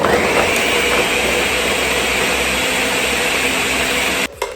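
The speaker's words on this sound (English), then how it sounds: "Try to work this blender, y'all." A blender whirs loudly and steadily, churning a thick açaí smoothie with almond milk, a close, continuous motor roar that cuts off abruptly near the end, with no talk.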